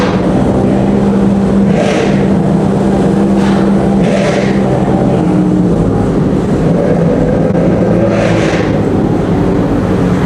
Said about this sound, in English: Oh, this thing is so sick. Old school 458 Cup car.